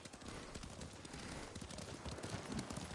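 Horses in Ghost of Tsushima walk along a path toward a beach, their hooves clip-clopping in a quick, steady rhythm at moderate, fairly soft volume with no voices over them.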